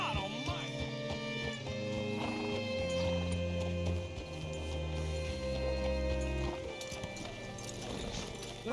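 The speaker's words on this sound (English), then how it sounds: "Hitch your horse up here." Horse hooves clip-clop at a steady walk in the video game Red Dead Redemption 2, followed by a whinny, with a voice talking over parts of it.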